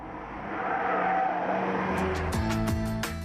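A Volkswagen Golf R engine roars loudly at high speed on a straightaway, its pitch climbing through the gears with brief shifts near the end.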